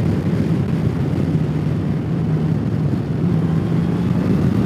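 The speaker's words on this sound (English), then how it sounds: "I'll put it into sport mode and you can see how this easily picks up." A 2020 Honda Goldwing motorcycle engine pulling hard in sport mode, a steady low rumbling drone under continuous road and wind noise, moderately loud throughout.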